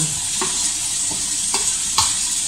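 Courgettes and other garden vegetables for ratatouille sizzle steadily in a pan over a lowered hob, with four distinct scraping stirs of a utensil recurring at roughly half-second to one-second intervals, close and moderately loud, no voices.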